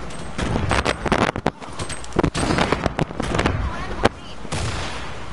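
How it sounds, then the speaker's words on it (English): Loud, dense burst of blasts and crackling gunfire in a video game, with a sharp explosion standing out near the end amid continuous battle noise. "I threw a grenade at the mega"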